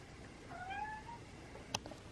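A cat meows indoors in a bedroom, one rising and falling call close by, followed by a brief sharp click in an otherwise quiet room.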